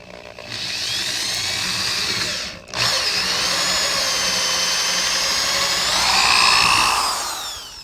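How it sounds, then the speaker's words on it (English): A power drill enlarging a bolt hole to 7/32 inch while mounting a Humminbird transducer scupper mount on a Predator PDL kayak, a steady high whine that dips briefly, then resumes and rises in pitch near the end. "So I'm going to use that drill bit and make it a little bit larger."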